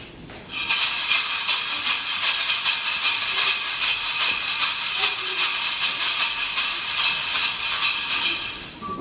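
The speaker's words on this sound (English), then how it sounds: "So commonly we would call it a shaker, but it's traditional Brazilian name is ganza." Steady, rapid metallic shaking from a ganza, a Brazilian metal shaker, with a bright hissing texture, keeping a fast even pulse for several seconds with no voices.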